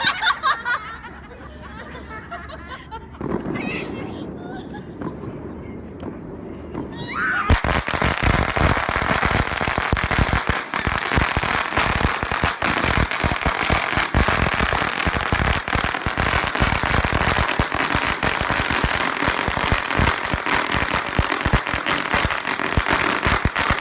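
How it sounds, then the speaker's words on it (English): Firecrackers and fireworks go off across city streets at Chinese New Year, starting as scattered pops under a muffled background, then becoming a dense, continuous crackling barrage of rapid bangs that stays loud and close. "There were so many fireworks all over the streets."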